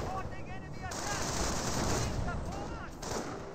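Rapid bursts of machine gun fire and scattered gunshots in a Company of Heroes 1 battle, with a dense, continuous rattle of combat noise beneath a commentator's voice.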